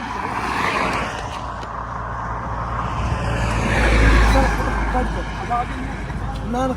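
A car engine idling and moving close by outdoors, a low steady rumble that swells briefly, while people shout and talk over it.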